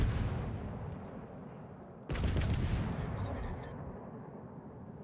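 Naval guns fire in World of Warships: Legends, a sudden heavy boom roughly midway that rumbles low and loud after a stretch of continuous battle noise and distant rumbling.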